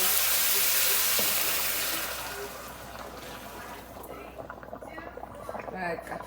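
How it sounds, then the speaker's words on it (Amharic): Boiling water goes into a cooking pot of oat chicken soup, starting as a loud hissing pour that fades after a couple of seconds into softer bubbling and clatter. "የፈላ ውሃ"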